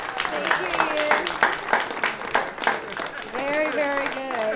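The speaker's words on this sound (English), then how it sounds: "Another round of applause, guys." An audience at an open music session claps with rhythmic, pulsing bursts while someone speaks loudly over the applause and voices from the crowd rise toward the end.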